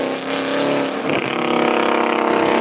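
A loud car with a bad muffler roars past close by, its harsh, raspy engine note steady and droning throughout.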